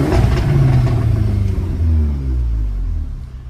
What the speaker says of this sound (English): fruity exhaust note